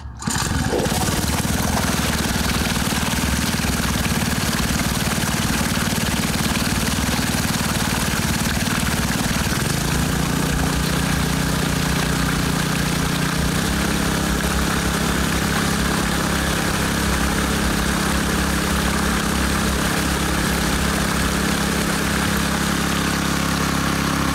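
Honda WX15 water pump engine running steadily at about half throttle, a loud continuous small-engine drone that shifts slightly in pitch partway through, with no talking.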